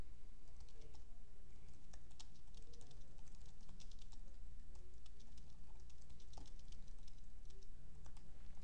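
Someone types a username on a computer keyboard, a run of soft, quick key taps with irregular rhythm over a low, steady room hum.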